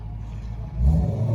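A Ryobi 40V HP brushless battery lawn mower's electric motor hums low and steady, then loads up and swells louder as it cuts into thick grass.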